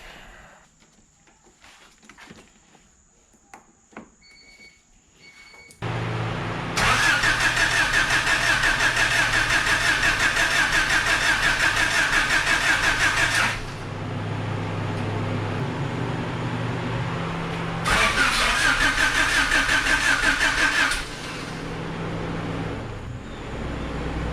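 A Honda H23A VTEC engine swapped into a CB7 Accord cranks and catches after a few quiet seconds, then runs loudly with a steady roar, dips briefly to a softer idle and surges up again before settling back down.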